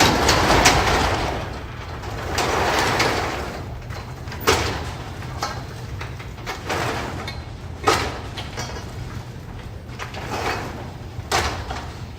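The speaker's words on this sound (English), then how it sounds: "Let me get this door open." A greenhouse door is pulled open, giving several sliding, rattling knocks and clacks over a steady background hum, fairly close and moderately loud, with no talking.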